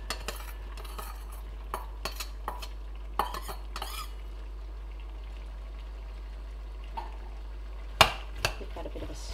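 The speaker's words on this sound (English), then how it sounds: "Give that a bit of a stir in the center." Onions and tomato paste are stirred in a pot for a chilli, with scattered scraping clinks of a utensil against the pan over a soft background sizzle, including a louder cluster of scrapes near the end.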